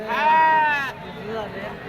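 A goat at a livestock market in Atpadi gives one loud, wavering bleat close by, followed by a fainter second call amid the background murmur of voices.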